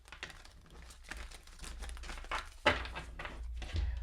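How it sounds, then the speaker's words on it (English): Tarot cards being shuffled during a reading, faint papery riffles and soft slaps in quick irregular bursts with one sharper snap near the middle, quiet and close with no voices. "shuffle one last time."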